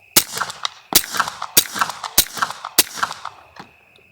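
A suppressed 9mm pistol firing supersonic 124-grain rounds, five sharp cracks in a steady sequence about two-thirds of a second apart, each with a brief metallic ring and echo, loud and close.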